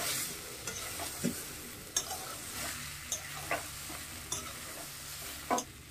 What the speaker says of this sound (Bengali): ফুলকপি ভাজা হয়ে গেছে, আমি আলুটা দিয়ে দিচ্ছি।